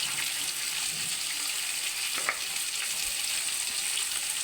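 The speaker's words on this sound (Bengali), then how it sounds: "এই সবজিটাকে এবার একটু ভালো করে নাড়াচাড়া করে ভেজে নিতে হবে।" Pumpkin, potato and snake gourd fry in a kadai, giving a loud, steady sizzle throughout with a faint scrape from stirring partway through.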